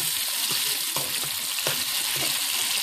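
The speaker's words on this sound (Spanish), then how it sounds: "sofriendo un poco de tocino una tacita de tocino lo estoy sofriendo hasta que dore" Bacon frying in a pan, giving a dense, continuous sizzle and crackle close up with a few soft stirring taps; no one speaks.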